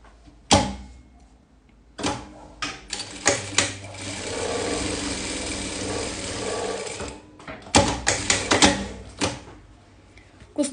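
An industrial sewing machine stitching the side seam of a garment in bursts: rapid mechanical whirring runs start and stop, separated by quieter pauses with faint handling sounds, close and fairly loud.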